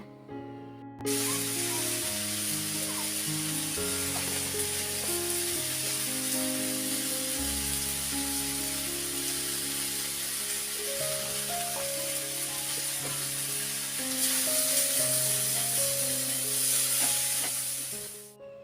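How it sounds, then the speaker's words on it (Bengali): Okra, tomato and potato fry in oil in a pan, a steady close sizzle that swells brighter near the end, with faint kitchen clinks and no speech. "আরও একটু তেল দিয়ে দিলাম আর তারপরে ভেন্ডিটা দিয়ে আর টমেটোটাও দিয়ে দিলাম"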